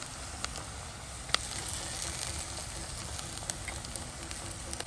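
Onions softened in a pan with two large tomatoes added, frying with a steady close sizzle and hiss, dotted with occasional small pops and crackles, no voices.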